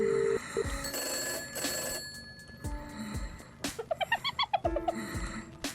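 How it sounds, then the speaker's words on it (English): A telephone tone from the video game Albert Wilde sounds briefly near the start. It is followed by busy game sounds, including repeated chirping tones and thuds. "There's a dial tone."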